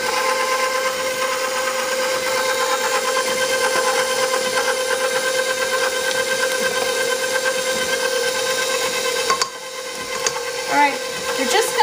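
A stand mixer runs steadily, mixing banana bread batter with a continuous whirring motor hum that dips briefly near the end.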